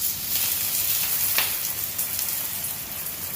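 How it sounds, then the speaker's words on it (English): Pork pot stickers frying in a Thermomix give off a continuous even hiss, like light rain, with one brief louder flare partway through and no voices over it. "it's going to sizzle up a little bit"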